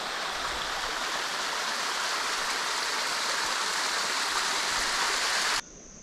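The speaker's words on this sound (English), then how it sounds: "There's a little cascade here." A small waterfall cascade in the forest at Mindo, Ecuador, pours with a steady, full hiss of rushing water, then drops suddenly to a quieter wash near the end.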